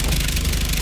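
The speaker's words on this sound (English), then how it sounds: "Alright, go drone!" A remote-controlled drone flying in the video game Call of Duty: Advanced Warfare gives a brief, steady, buzzing engine-like hum at a constant loud level.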